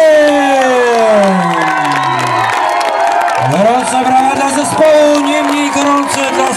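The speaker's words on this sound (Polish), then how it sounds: "Gorąca brawa dla zespołu, niemniej gorąca." Crowd cheering, whooping and applause ring out for a band at an outdoor concert in Pniewo in 2009, loud and sustained, with a voice speaking over the noise and whistle-like tones gliding downward.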